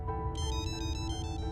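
A mobile phone ringtone plays alone, a steady repeating electronic melody of pulsed tones that starts sharply and continues without pause, fairly close and clear.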